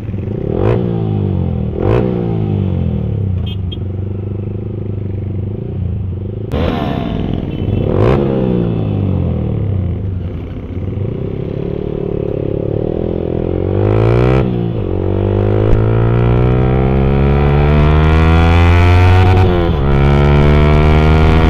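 A Hero motorcycle sets off and revs hard, its engine pitch climbing in repeated rising sweeps between gear changes, loud and close, building into a sustained high-revving drone.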